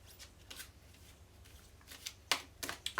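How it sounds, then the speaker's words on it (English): New, sticking tarot cards are shuffled in a few quick, crisp riffles, quiet at first and louder toward the end, with soft handling noise between. "I'm going to try to shuffle it again because the cards are new"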